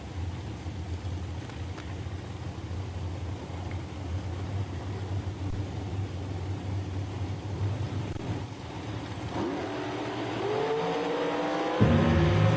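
Dragsters race down a drag strip at Woodburn, Oregon: a steady, distant engine rumble that swells into a loud, close roar of revving and acceleration near the end.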